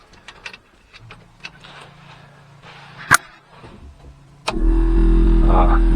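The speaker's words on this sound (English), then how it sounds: "We have a compressor." An air ride suspension compressor in a 1964 Galaxie: a few scattered clicks and one sharp tap come first, then the compressor kicks on and runs with a steady, loud, close drone until the end.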